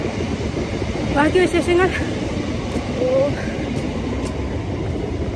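A train runs along a railway track below a bridge, a steady close rumble of wheels and carriages that carries through the whole stretch while a person talks over it.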